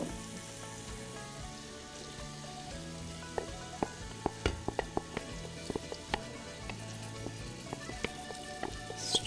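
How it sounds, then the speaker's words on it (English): Tomato sauce hitting a pot of lamb stew, a steady sizzle with crackling, spattering pops that grow busier as it cooks, close and fairly soft. "now we're going to add our tomato sauce."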